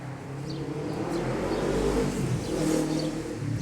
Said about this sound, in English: Some idiot on a motorcycle making noise there.